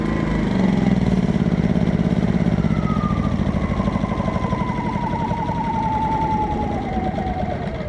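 A small Atima inverter generator engine runs steadily and loudly up close, its pulsing low drone continuous throughout with a rising and falling whine above it, no talking.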